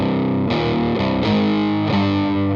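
A heavily distorted electric guitar plays a quick variation of a song's chorus, barre chords shifting in a fast rhythmic run, loud and up close without any voice.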